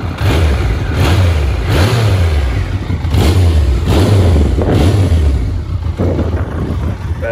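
A warmed-up Triumph Daytona 900 sport motorcycle engine is revved repeatedly, about six rising and falling throttle blips in a steady rhythm, loud and close with a faint whine over the top.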